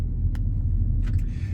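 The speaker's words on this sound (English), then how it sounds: "So the car fires up very nicely, slip it down into drive and away we go." A white 2014 Skoda Yeti Elegance SUV with a 1.2 TSI petrol engine and DSG automatic gearbox idles and pulls away with a loud, steady low rumble, a few faint clicks and knocks sounding over it.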